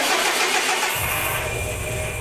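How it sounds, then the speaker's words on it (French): A Subaru WRX STI engine cranking with a whirring starter, then catching about a second in and settling into a loud, rough idle close by. "nous sommes prêts à démarrer le moteur."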